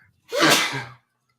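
A single close, loud sneeze, sharp and breathy, followed by silence.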